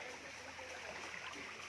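Irrigation water drawn up by a Persian wheel (rahat) from a well runs along an open field channel near Kumbhalgarh, giving a faint, steady rushing trickle with no talking.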